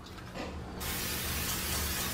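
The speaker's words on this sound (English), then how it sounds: "I still spray my pan." A short hiss of aerosol cooking spray on a non-stick pan, starting softly then becoming a loud, steady spray for over a second, close by.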